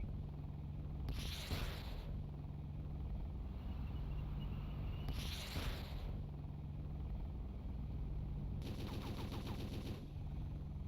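Rapid bursts of gunfire from the GBA war game Super Army War, three separate rattling volleys spaced a few seconds apart over a constant low electronic hum.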